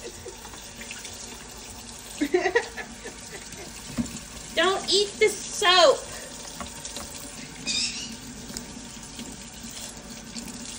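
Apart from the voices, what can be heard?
running tap water at bathtime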